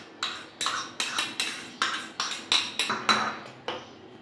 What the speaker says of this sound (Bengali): প্রথমে আমি মুসুর ডাল আর ডিমটাকে ভালো করে মিশ্রণ করে নেব।